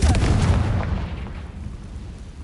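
A Confringo fire spell explosion in the Hogwarts Legacy video game, a single loud booming blast that decays into a rumbling tail over about two seconds.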